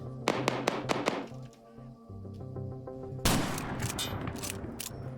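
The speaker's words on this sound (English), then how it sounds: "See, I hear the gunshots. Are they up there?" A quick burst of sharp gunshots in Arma 3, followed by a heavier blast and crackling, with low rumbling tones underneath.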